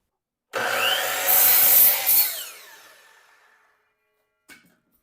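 A saw cuts through a deck baluster in one quick, close stroke, a bright rasping burst that fades over a couple of seconds, followed by a short knock near the end.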